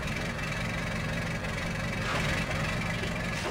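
A tractor engine idles in the video game Stubbs the Zombie, a continuous, even mechanical rumble with a faint rattle that holds steady throughout without a break.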